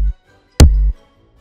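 Synthesized kick drum with top and bottom kick layers combined, giving two punchy, deep booming hits, each with a sharp click attack and a short sustained low thump, played alone and close.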